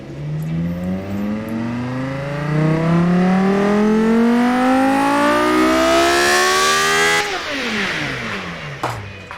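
A 1,000-horsepower V10 with an intercooler and a 4-inch exhaust in the engine-design game Automation revs in one long, loud climb that rises steadily for about seven seconds, then drops sharply as the throttle closes.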